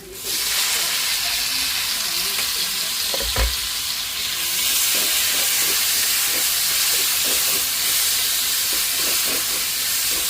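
Chopped tomatoes sauté in a hot pan with a steady, close sizzle and hiss, broken by one brief utensil clank partway through.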